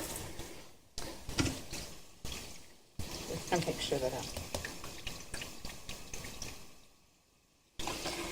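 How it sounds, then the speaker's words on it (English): Tap water runs steadily into a large pot for boiling ribs, a continuous splashing pour with brief gaps, while a person speaks over it. "I'm just going to fill this up with water just so it's cut to the point that it's covering the meat"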